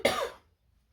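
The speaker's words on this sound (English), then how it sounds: "Excuse me, I have to cough." A single short, sharp cough, close and alone, dying away quickly into quiet.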